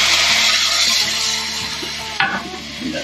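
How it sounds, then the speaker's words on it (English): Water poured into a hot pan of browning food at an outdoor fishing camp cook, hissing into a loud, steady sizzle that fills the whole clip with a few soft stirring knocks. "And now we just add a little bit of that water."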